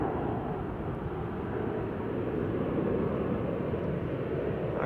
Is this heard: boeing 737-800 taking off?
yes